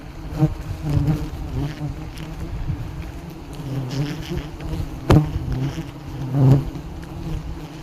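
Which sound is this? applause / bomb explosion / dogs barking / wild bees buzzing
wild bees buzzing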